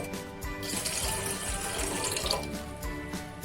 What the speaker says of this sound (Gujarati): બે કપ લોટ લીધો છે તો બે કપ આપણે પાણી નાખીશું